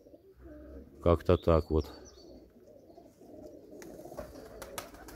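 Pigeons coo in a garden, a quick run of four loud rounded calls close by, followed by quieter chirps and rustling while someone speaks briefly.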